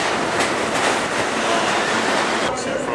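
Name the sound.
subway train arriving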